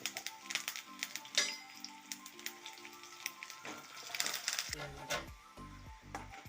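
Curry leaves dropped into hot oil where jackfruit chips are frying, giving a steady crackling sizzle with scattered taps and pops, fairly faint, while a voice talks at times.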